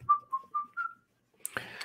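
A person whistles a short, cheerful tune of four clear notes, followed by a brief clatter of rustling noise.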